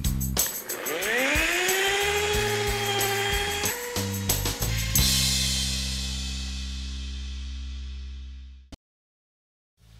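Power tool whine from a car-detailing shop as a buffer works on car paint: a loud, steady mechanical drone with rising pitch at the start, running for several seconds and then winding down before cutting out.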